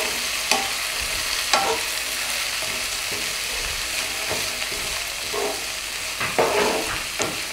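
Chopped cabbage with garlic sautéing in hot oil, a steady soft sizzle with repeated scraping stirs of a spatula in the pan, no voices.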